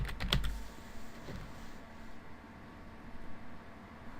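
Typing on a computer keyboard while entering a plugin search on a website, a few sharp close keystrokes at the start followed by quieter sparse taps over a low background hiss.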